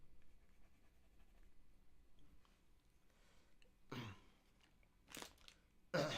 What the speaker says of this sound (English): I'm going to mark that off, pencil it on